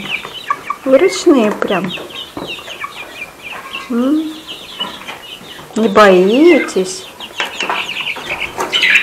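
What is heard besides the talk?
chickens clucking at a feeder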